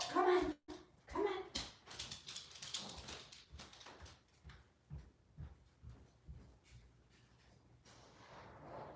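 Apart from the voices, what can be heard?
dog being let outside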